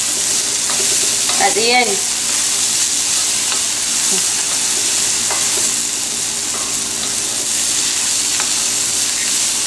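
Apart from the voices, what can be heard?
vegan vegetable stir-fry sizzling in a pot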